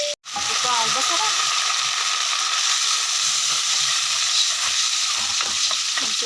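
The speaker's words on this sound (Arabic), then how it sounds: "والبصل اهيت حطيتها تحمر بقى" Onions frying in ghee and butter, a loud continuous sizzle close up, with occasional stirring scrapes over the bubbling hiss after a short quiet start.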